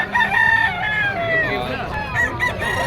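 At a Bocaue pet market, a stag rooster crows loudly and close in long drawn calls, with other fowl crowing over a noisy crowd background.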